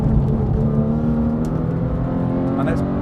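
A 2017 Porsche 911 GT3 with manual gearbox revs hard near 8,000 to 9,000 rpm on the road, a loud, steady high-pitched engine wail heard from inside the car, with faint voice under it.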